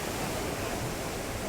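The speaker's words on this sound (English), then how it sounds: "Way bigger rapids and not so many rocks, so super fun." Roaring white water of big river rapids on the Nile in Uganda, a dense, steady broadband rush filling the whole clip, loud and close with no talk.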